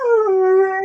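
A full-blooded German Shepherd gives one close, clear, sustained howl that wavers slightly in pitch and stands alone without talk.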